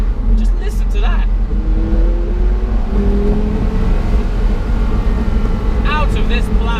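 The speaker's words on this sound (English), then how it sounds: "a V10 Le Mans engine" A Porsche Carrera GT's V10 Le Mans engine roars steadily, revving with rising and falling pitch throughout; a voice is heard briefly near the start and end.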